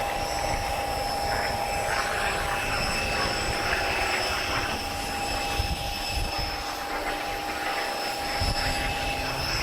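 An aircraft flying past at an airshow in Portugal, a steady broad engine roar with a sustained droning tone, fairly distant and constant throughout, with no talking.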